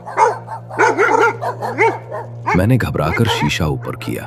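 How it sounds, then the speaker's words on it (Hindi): A pack of dogs barks and yips on the road behind a car at night, the barking mixed with close talking and growing louder and busier toward the end. "पीछे कुत्ते भौंक रहे थे।"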